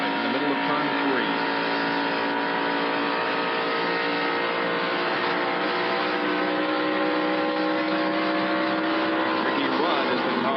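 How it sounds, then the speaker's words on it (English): A Pontiac stock car engine coming back on the throttle mid-corner at the 1990 Champion Spark Plug 400, a loud, continuous roar with steady layered harmonics that hold for about ten seconds. "You can hear Derek off the accelerator here, now back on it in the middle of turn 3"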